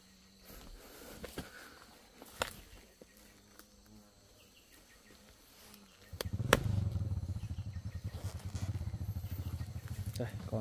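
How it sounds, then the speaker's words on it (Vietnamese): Motorbike approaching in a rural setting near bee nests, its engine rising from quiet to a steady buzzing drone in the second half, with faint insect sounds and scattered clicks before it arrives. "Sẽ có xe máy ai vào đây."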